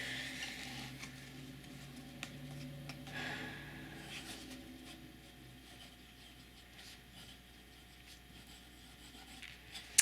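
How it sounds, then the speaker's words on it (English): Steel medium nib of a Faber-Castell E-Motion pure silver fountain pen scratching softly across paper, a continuous faint close-up rub with brief pauses between strokes. "Let's do a bit of writing."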